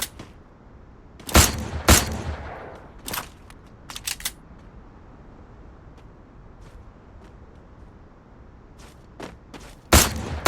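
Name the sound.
gunfire in the video game Free Fire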